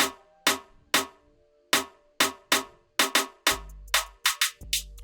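A snare in a moombahton build-up, programmed in FL Studio, hits in crisp, evenly spaced strikes that grow denser toward the end. A deep low tone swells in under the final hits.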